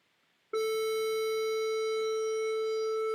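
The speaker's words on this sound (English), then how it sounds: "So let me do a quick test with a sine wave first." A steady sine-wave test tone sent through a diode clipping circuit switches on abruptly after a moment of near silence and holds loud and constant, its clipped edges giving a buzzy, harmonic-rich timbre.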